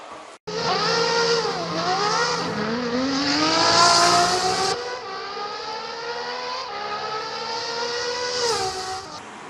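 A BMW 520i petrol car converted to run on LPG with a 60-litre cylinder tank, its engine droning loudly and steadily, rising in pitch as it accelerates, with no talk over it.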